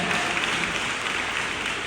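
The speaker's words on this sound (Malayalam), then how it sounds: "ഒന്ന് ക്ലാപ്പ് ചെയ്തേ" An audience at a book release event at a church convention claps, a dense steady wash of many hands close up that runs unbroken across the whole moment.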